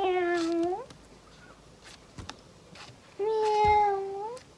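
A person imitates a cat with a drawn-out vocal meow, then after a quiet gap gives a second long meow, both close and fairly loud.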